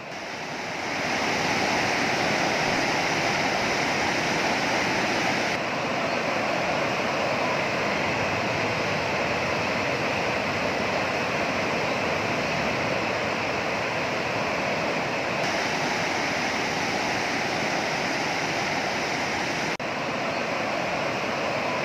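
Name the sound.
floodwater rushing in Yamuna river current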